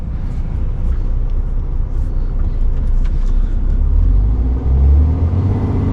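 Cars passing on a busy road heading toward Bristol, a loud continuous rumble and whir of traffic with swells as vehicles go by nearby, no talking.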